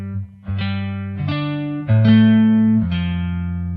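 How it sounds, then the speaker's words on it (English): Two MIDI guitar notes played an octave apart, the lower one slightly ahead of the higher, sounded repeatedly in clear, close, sustained pairs with no talking. "This is an octave where it sounds like 2 notes an octave apart, slightly one before the other."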